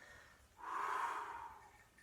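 A single sharp inhale drawn through the nose or mouth during an abdominal crunch workout: a loud, close breathy rush that swells for about a second and then fades.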